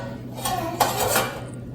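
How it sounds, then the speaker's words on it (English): Metal grease catch pan slid into place beneath a grill, a short close scraping slide with a light metallic clack in the middle, about a second long, with no voices. "So this is for the pan underneath. So the pan just slides in."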